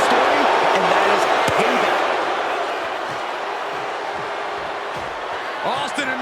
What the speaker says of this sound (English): do you hear this capacity crowd?